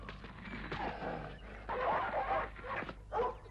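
A wild dog in an animated cartoon series growls and snarls in rough, rising bursts, steady with a louder surge partway through, with no speech over it.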